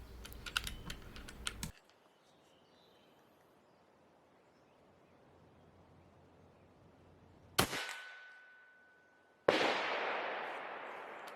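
A Kral Bighorn .35 cal air rifle charged near 250 bar fires two sharp, loud cracks a couple of seconds apart, each followed by a ringing tail, after earlier clicking and a long quiet stretch.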